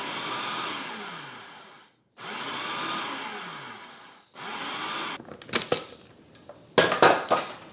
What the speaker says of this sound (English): Then I will pulse the machine 7 to 10 times just to break up the butter